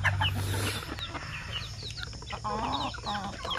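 Native chickens clucking close by, short overlapping clucks and calls in an irregular stream, with no voices.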